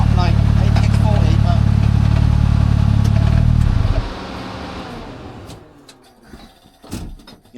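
A car with a newly fitted turbo revs loudly and steadily for about four seconds, then drops away to a quieter idle with scattered clunks; people talk over it.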